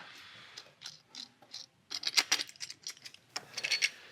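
Metal bolts and nuts being loosened by hand on an XERO Pure Plus reverse osmosis filter system, producing scattered close, quiet ratcheting clicks and light metallic rattles in short irregular bursts, with no talking.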